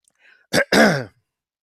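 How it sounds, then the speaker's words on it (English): Someone nearby clears their throat in one short rough burst, then gives a longer, harsher cough-like clearing, with a faint breath just before and silence after. "if I can't get rid of that cough"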